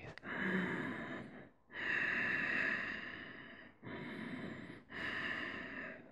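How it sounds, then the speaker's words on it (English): Slow, deep yoga breaths held through a standing pose, four long broad inhales and exhales with short pauses between, close and steady with no talking. "Hold and breathe."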